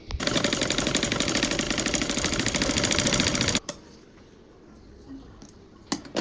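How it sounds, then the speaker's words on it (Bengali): A sewing machine runs a long steady stitching burst along a fabric strip for a blouse or dress tie, then stops abruptly, leaving a quiet room with a few faint clicks. "আমাদের এই মেশিনের যে ফিট আছে ফিটটাকে ধরে 1 ফিট পরিমাণ দূরত্ব দিয়ে আমি এই কেনার দিয়ে একটা সেলাই লাগাবো"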